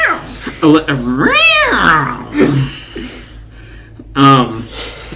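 Podcast hosts imitate cat meows with their voices, giving a few drawn-out, rising and falling mock meows separated by short pauses.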